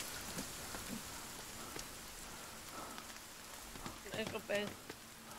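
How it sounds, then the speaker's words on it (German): Heavy rain falls steadily on a hunting hut in a soft, continuous patter, faint and distant, with scattered louder drips and brief knocks. "ich höre nur Regen."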